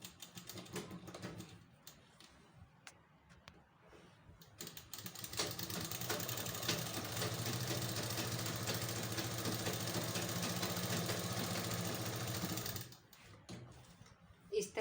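A sewing machine stitches plazo pant fabric, running in a long continuous whirring burst that starts after a few quiet seconds and stops abruptly near the end, with light handling clicks around it.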